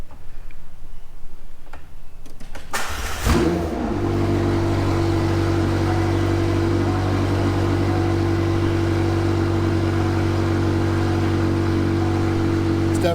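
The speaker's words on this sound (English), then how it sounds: "I'm going to go ahead and start up the car to show you guys the first cool feature about it." A 2022 McLaren 720S starts up: a sharp crank burst, then the engine settles into a loud, steady idle with a strong low rumble close by, with no talking over it.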